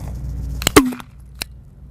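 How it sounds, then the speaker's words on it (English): A less-lethal launcher fires a sponge ball round outdoors: one sharp, close pop followed a moment later by a fainter second crack. "As you can see, the round has been expelled from the top and is downrange."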